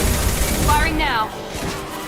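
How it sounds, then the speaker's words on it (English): A short, loud burst of gunfire in the Mass Effect video game, dense rapid shots over a heavy low rumble, with a voice shouting briefly over the firing. "Firing now."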